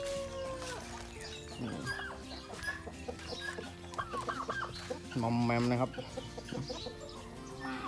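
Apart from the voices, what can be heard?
fighting rooster clucking on a farm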